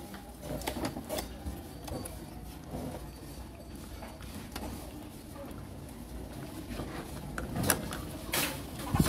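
Swing arms being attached to an electric fan motor assembly: scattered plastic clicks, taps and knocks of parts fitting together, close and irregular, over a low background hum.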